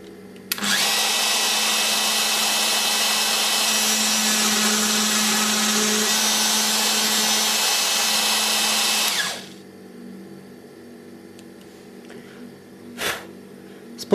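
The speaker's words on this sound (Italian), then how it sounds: "Siamo pronti per forare. Cominciamo da un'estremità della mortasa." A router (fresatrice) cutting a mortise in wood gives a loud, steady high-pitched whine that holds for about nine seconds, then stops abruptly, leaving a quiet hum and a brief knock.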